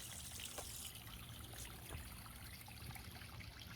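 A small backyard pondless waterfall trickles and splashes faintly in a continuous, even wash of falling water with no voices.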